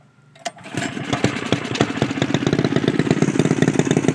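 Engine of a Honda Ruckus trike starting up and running, a small engine catching after a brief crank then settling into a steady, close, rhythmic putter that holds evenly with no voices.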